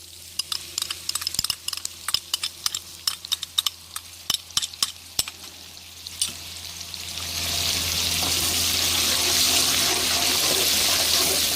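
Garlic, capsicum and onion frying in a pan, first with sharp clicks of a spoon against the pan, then a steady loud sizzle that swells and holds once the vegetables go in, no voices.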